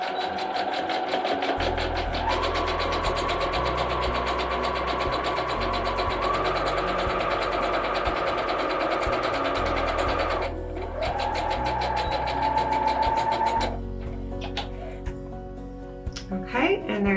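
Sewing machine stitching a face mask seam at quarter-inch allowance, a steady mechanical whir running for long stretches with brief pauses and a short back-stitch burst near the end.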